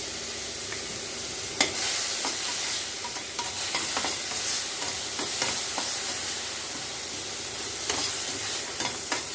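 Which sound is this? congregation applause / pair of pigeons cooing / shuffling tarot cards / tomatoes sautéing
tomatoes sautéing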